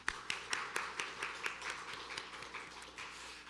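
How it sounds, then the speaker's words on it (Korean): A church congregation claps in encouragement during a Sunday morning worship service, a soft, distant patter of scattered hand claps with a steady rhythm for a few seconds. "우리 격려의 박수 한번 보내드리겠습니다."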